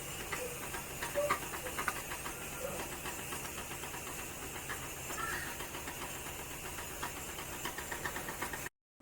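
Batti dough balls boil in a pot of water on a gas stove for Khandeshi dal batti. A steady, close bubbling hiss with faint rhythmic pops runs throughout and then cuts off abruptly.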